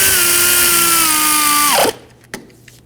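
A power tool snugs up the hub bolts on a 2006–2009 Audi S4 front wheel hub. A loud, steady whine drops in pitch as the bolt tightens, cuts off abruptly, and is followed by a single metallic clunk.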